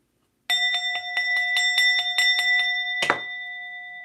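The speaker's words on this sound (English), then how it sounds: "I'm going to be hitting the bell just to clear the vibe" A small bell struck about ten times in quick, even succession, each ring bright and sustained, ending with a stronger final strike that rings out and fades alone in a quiet room.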